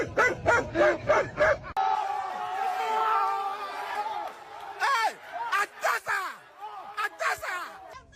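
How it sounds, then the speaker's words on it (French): A dog barks in a quick, rhythmic burst of yips and bow-wows close by, with a pause filled by crowd chatter and voices before more barks come in a choppy beat. "Les aboiements du chien sont devenus un afrobeat pour ce mec."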